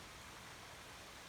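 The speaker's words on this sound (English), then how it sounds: "The sound you're hearing is part of the waterfall." A waterfall out on a rough hiking trail, heard as a steady, broad rushing wash of water, continuous and fairly soft, with no voices over it.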